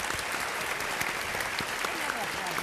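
Steady, dense applause from an audience after a legal panel discussion on national power and constitutionality, sustained throughout with a faint voice underneath.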